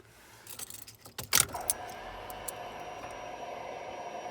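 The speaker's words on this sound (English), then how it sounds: "That's the fuel pump, you can hear." A 1989 Chevy K1500 Z71 truck: keys jangle in the ignition, then a low, steady hum from the fuel pump priming continues close by, with no talking.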